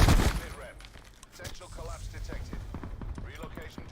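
Video game gunfire comes as a burst at the start, then rapid repeated shots crackle steadily through the rest, mixed with muffled voices underneath.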